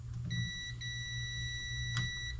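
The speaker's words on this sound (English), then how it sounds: "just take a simple multimeter and you can do a continuity check" Multimeter continuity check on the wiring of a Kawasaki X2, giving a steady electronic beep that holds for about two seconds with a short break near the start, fairly quiet.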